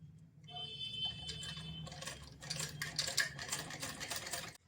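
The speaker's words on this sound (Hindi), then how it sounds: "मैंने सिलाई करना स्टार्ट किया है साइड के पार्ट से" Sewing machine stitching the side seam of a short dress, running in steady bursts with a fast mechanical rattle, close and fairly quiet, pausing briefly before resuming without talk.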